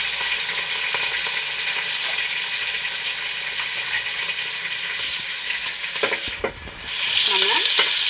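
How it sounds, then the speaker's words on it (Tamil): Onions, curry leaves and green chillies frying in a pan for a sardine curry, a steady close sizzle with spatula stirring scrapes, a brief louder hiss near the end. "இப்போ இந்த வெங்காயத்தை பொரிச்சு இதுக்கு தேவையான கருவேப்பிலை,"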